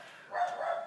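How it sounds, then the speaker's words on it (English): Dogs bark and yip faintly in the distance inside a home, a few overlapping barks over a low background hiss. "I don't know what they're barking over, but they're going pretty crazy."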